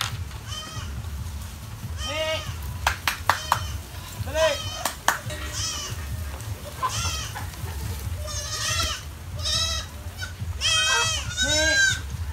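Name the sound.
goats bleating in backyard farm pen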